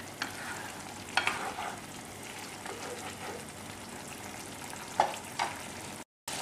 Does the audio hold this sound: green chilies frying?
yes